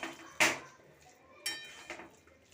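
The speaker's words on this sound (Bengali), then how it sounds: "ঢাকাটা খুলে একটু নাড়াচাড়া করে নামিয়ে নেব" A lid comes off a pot of vegetarian banana curry and a spoon stirs it, giving a few distinct metallic clanks and scrapes spaced over a couple of seconds, fairly quiet and close, with no talking.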